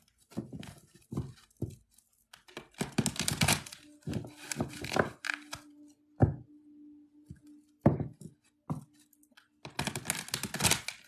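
Tarot cards are shuffled by hand in uneven bursts of riffling, tapping and slapping, with soft thunks and pauses between, fairly close and quiet.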